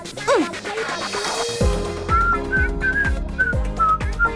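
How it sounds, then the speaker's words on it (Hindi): A girl whistles a short tune, clear rising and falling notes with a few sliding pitches, close and alone over a low, thumping backing. "लड़कियों को सीटी नहीं बजाना चाहिए।"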